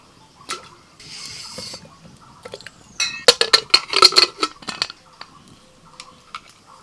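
Four raw mangoes dropped one after another into water in a metal pressure cooker, giving a burst of sharp clinks, knocks and splashes in the middle, with softer scattered clatter before and after.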